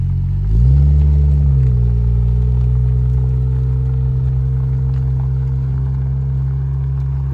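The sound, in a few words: Toyota 1JZ engine revving in a Toyota Cressida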